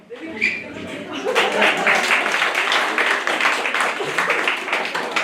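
Sustained applause from a crowd, dense steady clapping that swells after the first second and holds at full strength throughout.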